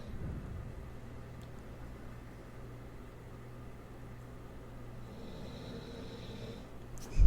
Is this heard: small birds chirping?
no